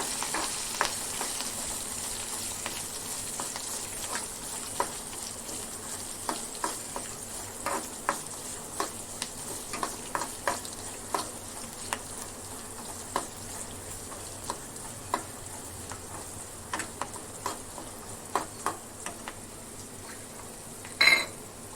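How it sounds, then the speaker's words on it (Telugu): Sliced onions fry and sizzle in a pan, a steady bright hiss broken by frequent sharp ticks and pops of spatter and stirring, close and alone with no talk. "ఆనియన్స్ని చక్కగా ఫ్రై అవనిద్దాం"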